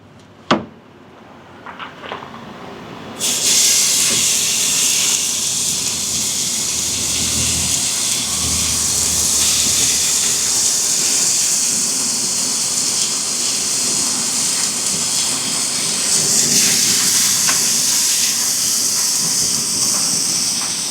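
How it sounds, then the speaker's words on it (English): After a brief click, a loud steady sizzle starts suddenly as pork blade steaks keep hissing on a hot charcoal griddle without pause, with faint clatter now and then. "It is sizzling right along."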